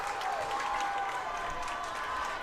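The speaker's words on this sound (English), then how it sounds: "give a big round of applause to Coach L for his 100th win" Crowd applause at a high school football game: steady, fairly faint clapping and cheering from many people in an outdoor stadium, continuous throughout with a faint tonal whistle-like line above.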